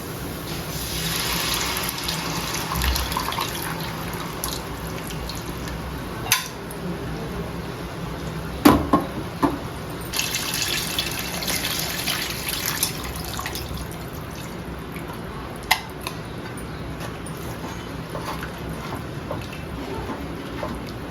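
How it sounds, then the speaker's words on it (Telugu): Tamarind water is poured into a pan while making a murrel fish curry. It gives a steady, continuous rush of liquid close by, with a few faint clinks of utensils, and no voices. "మనం ఇంట్లోనే చింతపండు పులుసు పోసుకోవాలి"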